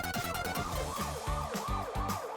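Cartoon ambulance siren wailing in repeated rising and falling sweeps, loud and continuous over a busy, dense background with no talk.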